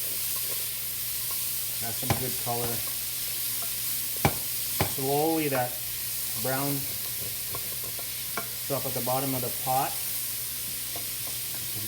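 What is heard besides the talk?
onions sweating and sizzling in olive oil in pot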